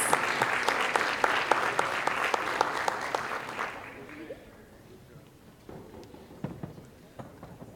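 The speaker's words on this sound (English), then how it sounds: "A big round of applause." An audience at a school board meeting applauds a first-place Reading Fair winner from an elementary school, loud sustained clapping that fades out after about four seconds, leaving sparse scattered claps and room noise.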